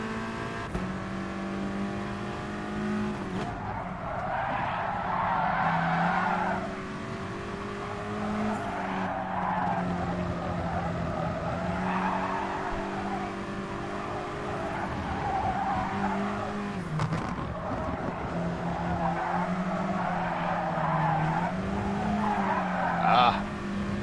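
A race car in GT Sport skids and loses control under too much throttle, tires squealing over a droning engine that rises and falls, with someone talking over the game sound.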